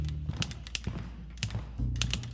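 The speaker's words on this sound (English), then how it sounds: "From the entryway, you can hear the clicking and clacking of a typewriter" Typewriter keys clicking and clacking in an irregular burst of sharp taps with short pauses, set over a low steady background hum.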